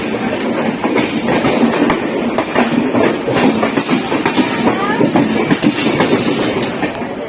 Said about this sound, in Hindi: ट्रेन यहाँ से मूव कर चुकी है